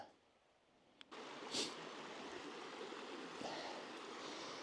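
Stream running through a snowy river valley while prospecting for gold, a steady broadband rush of flowing water that starts after a brief quiet moment and continues evenly and fairly close.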